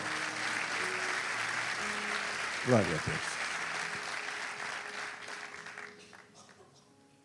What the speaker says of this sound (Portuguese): Dê um forte aplauso